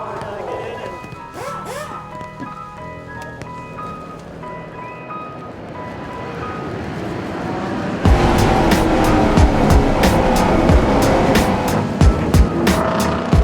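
Race cars racing at Watkins Glen: a soft, tonal engine passage under talk gives way to a sudden loud roar of engines and tire noise that holds steady to the end.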